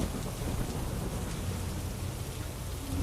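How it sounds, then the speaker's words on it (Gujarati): Heavy rain pounding down in Mumbai as a steady, dense hiss of downpour, with a low thunder rumble underneath throughout; no voices. "હાલ મુંબઈમાં ભારે વરસાદ વરસી રહ્યો છે"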